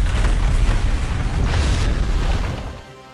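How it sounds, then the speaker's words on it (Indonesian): A bomb detonates in an action film about mercenaries hunting dictators, producing a loud, sustained rumbling blast that roars for a few seconds and then fades out. "kalau Sandra tengah keluar dengan James, ia langsung meledakkan bom tersebut"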